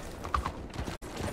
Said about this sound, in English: That's a hell of a horse you got there.